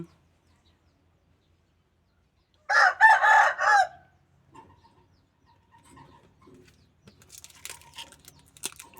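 Rooster crowing nearby: one loud, close cock-a-doodle-doo in the first half, followed by quiet, faint rustling and small scattered noises.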